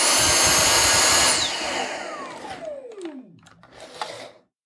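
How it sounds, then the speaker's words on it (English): A Dyson cordless vacuum cleaner just back from a battery repair runs with a loud whine for about a second, then cuts out and winds down with a falling pitch, leaving faint clicks and handling noises. "now we're going to check if the vacuum works again"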